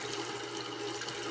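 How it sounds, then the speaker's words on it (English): Warm water runs steadily from a bathroom tap during a pre-shave routine, a continuous close splashing rush with no voices. "let's get some warm water going"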